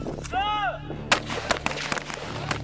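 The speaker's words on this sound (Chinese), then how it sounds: "10发子弹全部击发" Rapid rifle gunshots during a Chinese army women's special forces shooting drill, ten rounds fired across five firing positions, heard as sharp close cracks spaced irregularly over an ongoing rumbling background.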